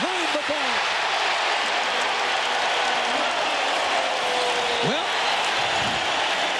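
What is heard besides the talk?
basketball arena crowd cheering after Jalen Rose's move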